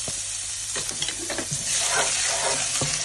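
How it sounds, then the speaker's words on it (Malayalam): Chopped ginger and garlic fry in hot sunflower oil in a pan, a loud, close, continuous sizzle with bursts of crackling as the pieces spit in the oil. "എണ്ണ ചൂടായി കഴിയുമ്പോൾ അതിലേക്ക് ഇഞ്ചി വെളുത്തുള്ളി കട്ട് ചെയ്ത് ആഡ് ചെയ്യുക."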